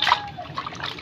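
Water trickles and splashes over an octopus being rinsed clean before cooking, a brief close burst followed by lighter dribbling.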